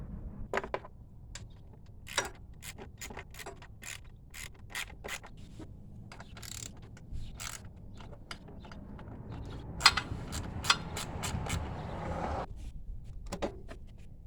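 Irregular metallic clicks, scrapes and clanks of tools removing a 40 series torque converter from a 301cc Predator engine, with scattered sharp taps over a low mechanical rumble; no talking.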